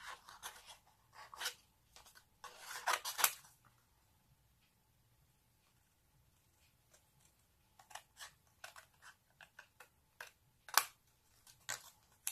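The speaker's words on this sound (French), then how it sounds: "Donc on découpe sur l'envers en suivant notre carré blanc, tout simplement." Scissors or a blade cut card paper along a white square from the back, making soft, quiet, scattered snipping and scratching bursts separated by near silence.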